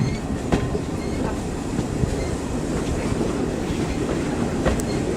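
Dartmouth Steam Railway train running along the line, a steady rumble of carriages with faint rhythmic clickety-clack of wheels over rail joints and occasional light squeals, heard from inside a coach without talk.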